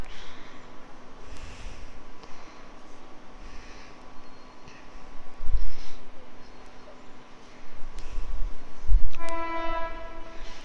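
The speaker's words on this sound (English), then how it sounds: "the next train on platform 2 is coming in 2 minutes." A Sydney B-set suburban train pulling into a platform at Wolli Creek station, a low rumble building twice, then a brief sustained horn-like tone near the end, with faint voices in the background.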